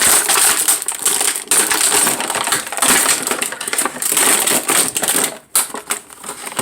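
Loud, close crinkling and crackling of stiff plastic packaging as a Marvel Legends Grey Hulk action figure is pulled out, with rapid snaps and a brief pause near the end.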